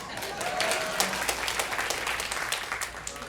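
A comedy show audience applauds in a short burst of dense, scattered clapping, with a brief voice audible beneath it.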